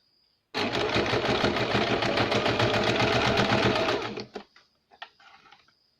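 A sewing machine runs steadily for about three and a half seconds while stitching a baby cap, a loud close mechanical whir of rapid needle strokes, then stops, followed by a few faint handling clicks.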